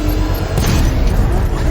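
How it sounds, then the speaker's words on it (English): Controlled bomb explosion in the Batman Arkham Knight video game, heard as a dense, loud, roaring blast that fills the whole moment with sustained crackling rumble. "Controlled explosion successful, sir. The militia have lost their bomb."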